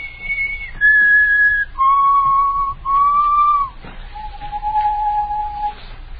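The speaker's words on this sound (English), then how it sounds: "Just keep whistling." A person whistles a slow tune of long held notes, clear and close, with short pauses between phrases.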